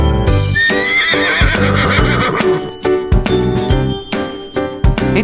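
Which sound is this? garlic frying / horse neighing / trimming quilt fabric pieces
horse neighing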